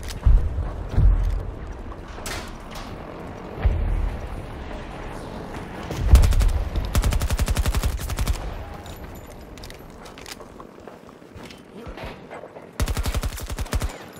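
Battlefield 2042 gunfire: scattered booming shots early on, then dense rapid bursts of automatic fire around the middle and again near the end, loud and close with no talking.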